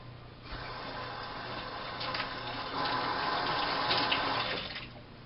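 Tap water runs steadily into a sink while hands are washed after handling eggs, a continuous splashing flow that grows a little louder midway before cutting off.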